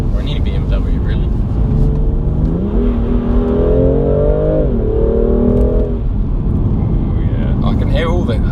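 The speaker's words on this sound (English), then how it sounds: "I can hear all the whooshes and gushes through the engine bay" A BMW M2 Competition engine revs and accelerates from inside the car, a loud rising and falling drone under a constant road roar with intake whoosh, and people talk over it.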